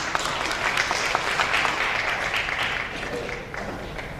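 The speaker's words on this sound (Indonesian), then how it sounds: "Berikan tepuk tangan yang paling meriah untuk Mr. Atao Shihota." An audience at a business launch seminar claps in sustained, dense applause, loud and continuous for several seconds before easing slightly, with no speech over it.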